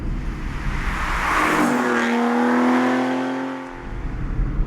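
An Aston Martin Rapide Bertone Jet 2+2 shooting brake swells from a distant rumble to a loud, smooth engine note as it passes by, then fades away.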